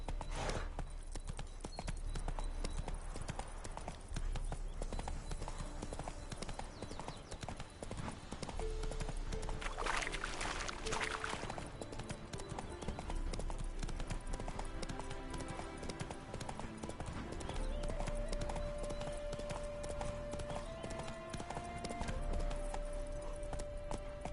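Roach, the horse in The Witcher 3 video game, galloping at a steady pace with rhythmic hoofbeats throughout, under game music and ambient sound, with a brief whoosh partway through.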